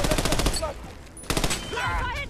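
Rapid machine gun fire from the video game Army of Two: The Devil's Cartel rattles out in a dense burst, breaks off briefly, then resumes alongside game sounds and voices.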